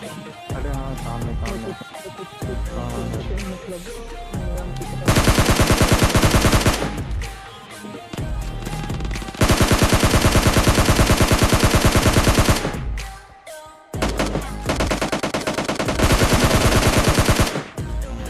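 Gunfire in PUBG Mobile Lite comes as loud, rapid automatic bursts, three long sustained volleys separated by quieter stretches of game ambience and distant shots.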